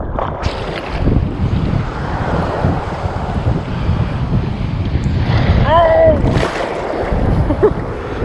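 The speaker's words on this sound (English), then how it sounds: "These waves are killing me, man." Rough ocean surf surges and crashes onto a beach during surf fishing, a loud, continuous wash of waves with wind buffeting the microphone and a voice speaking briefly over it.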